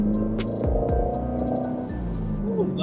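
A Chevrolet Corvette Z06 being driven, its exhaust a deep, throbbing low rumble heard from inside the cabin, steady and close, with a few light clicks and ticks on top.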